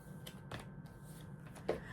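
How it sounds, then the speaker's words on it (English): Tarot cards are shuffled by hand, giving soft brief riffling and sliding flicks in irregular bursts, close and quiet over a low background hum. "I am shuffling these cards."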